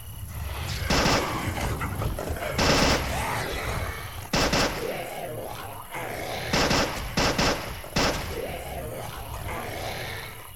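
Repeated bursts of automatic gunfire in a zombie shooter video game, loud rapid volleys separated by short gaps, with a game background hum underneath.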